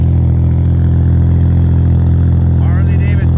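A Harley-Davidson motorcycle engine idles nearby at a classic car show, a loud, steady low-pitched throb with an even rhythm throughout, and a faint higher chirp near the end.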